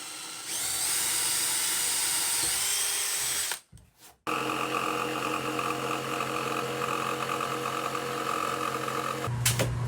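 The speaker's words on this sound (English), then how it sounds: "I'll drill a hole just big enough for the jigsaw blade so I can start a line over there." A power drill bores a hole in a wood tabletop panel for a jigsaw blade: a loud steady whine, a brief pause as the motor stops and restarts, then continued drilling with a shifting pitch.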